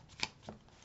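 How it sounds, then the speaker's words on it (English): A deck of tarot cards gets shuffled, a couple of quick crisp riffling flicks close up, the first sharper and louder, in an otherwise quiet moment. "She said make sure they're really shuffled well."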